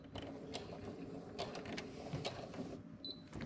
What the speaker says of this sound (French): je vais maintenant coudre mon ourlet à 2 mm du bord avec un petit point d'arrêt